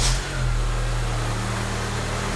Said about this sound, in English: Let me go ahead and start the engine